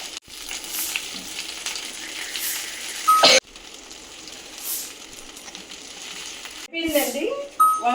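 Stuffed brinjal (gutti vankaya) frying in a pan, a steady soft sizzle running throughout with a couple of brief clatters as the pieces are turned, and faint background talk.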